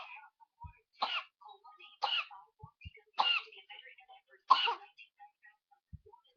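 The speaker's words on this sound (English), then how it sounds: "Cough it out" A child coughs four times in a slow, spaced series, each cough short and harsh, close up with quiet between.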